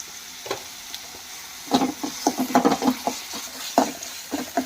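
Tomato and onion fry in a pan with salt, giving a soft sizzle broken by uneven scraping and stirring clatters, quiet at first and busier in the second half, with no talk.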